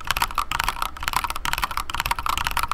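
Rapid, steady typing on a Yunzi mechanical keyboard, a dense stream of crisp, close clacks with brief pauses, heard alone without talk.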